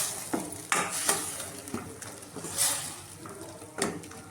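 A utensil scrapes and clinks against a pan while coriander paste is stirred into egg masala gravy, irregular metallic taps and scrapes at close range, with no talking.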